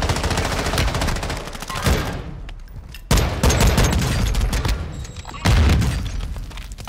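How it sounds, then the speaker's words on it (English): Heavy gunfire erupts in Call of Duty Warzone 2, with dense bursts of rapid shots and booming impacts in three loud clusters separated by brief lulls, no talk over it. "I was just shooting"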